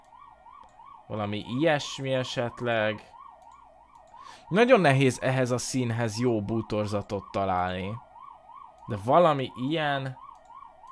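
An ambulance siren wails steadily in the background with a regular rising-and-falling tone, running beneath and between a woman's speech.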